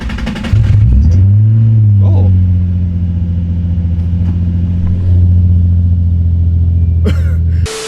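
A Nissan 350Z engine with a newly installed motor cranks briefly, then catches and settles into a steady, loud idle that rumbles on without interruption.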